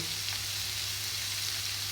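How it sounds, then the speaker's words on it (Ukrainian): Steady sizzling of onions frying in a pan, a constant close hiss with faint crackles throughout and no talking. "Спочатку обсмажуємо цибулю."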